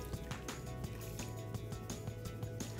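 Washing soda crystals dissolved in a pint of water are poured into a homemade washing powder mixture: a steady, close liquid gush with splashing and dripping that runs throughout.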